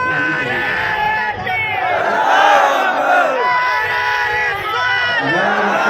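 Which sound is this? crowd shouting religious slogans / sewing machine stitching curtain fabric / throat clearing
crowd shouting religious slogans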